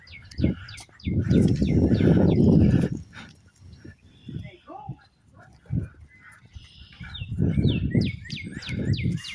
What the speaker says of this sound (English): I'm trying to figure out the bird. What kind of type of bird is that?